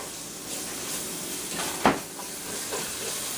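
Onions fry in a pan with mushrooms, a steady soft sizzle and hiss holding throughout, with one brief sharper crackle partway through.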